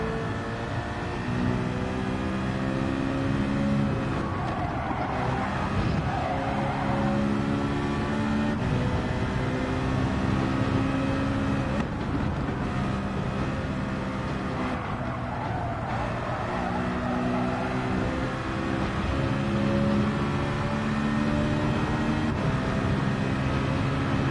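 Race car engines in the Gran Turismo 7 video game drone continuously at high revs, the pitch sliding up and down through gear changes as cars lap the track. The sound is loud and sustained, with no talk over it.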